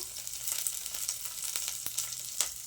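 Onion and curry leaves sizzle steadily in hot oil for a chickpea sambar, a continuous close hiss with faint crackles and a few brief stirring clicks, with no voices.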